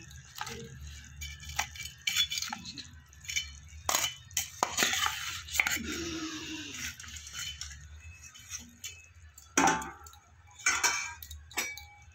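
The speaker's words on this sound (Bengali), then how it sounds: "এবার দেবো আমি বেগুন ভেজে রাখা।" Fried eggplant is added to a khoyra fish curry with potatoes in a pan, bringing intermittent close clinks, knocks and scraping of a utensil against the pan over a quiet simmering background.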